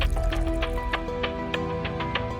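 A drink poured into a glass makes a close, steady liquid stream with a rising filling gurgle and small splashes throughout.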